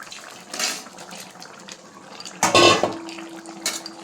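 Fried fish pieces drop into a pan of simmering, reduced curry gravy with a brief wet splash and sizzle, set against quiet kitchen clatter.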